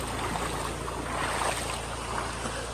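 Steady broadband rush of a river flowing through forest in Karimpuzha wildlife sanctuary, Nedumkayam, continuous and fairly close with no talk.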